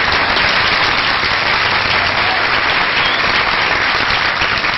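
A stage audience bursts into loud, sustained applause for the winner of a watermelon-size contest, dense clapping filling the space without a break and no voices standing out.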